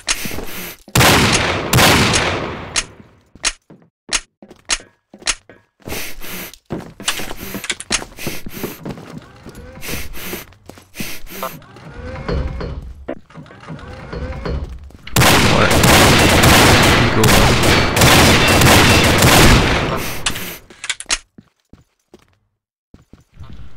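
Desert Eagle pistol shots ring out in a shooter video game, loud, sharp and close, first as a quick string of single cracks, then as dense, sustained bursts of gunfire, with gaps of footsteps and movement between them.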